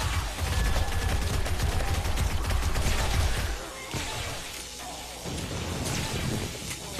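Dart Trap repeatedly firing in the video game 7 Days to Die, a dense crackling volley of rapid shots with metallic clatter, loud and continuous, easing slightly midway before picking up again.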